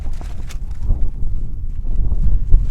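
Strong night wind buffeting a camp on the Continental Divide Trail in New Mexico, rumbling gusts and microphone buffeting, loud and close with no talk.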